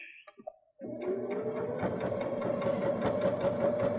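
A Baby Lock Jazz II sewing machine with a plain hemmer attachment stitches lightweight fabric at a lengthened stitch: a few soft clicks, a short pause, then a steady, close motor whir with rapid needle chatter.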